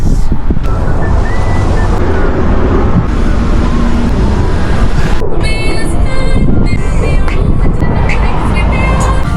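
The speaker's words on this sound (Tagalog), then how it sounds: "Para ba ang lakas ng hangin." Strong wind buffets the microphone in a loud, constant roar, with gusts rising and falling throughout and no voices.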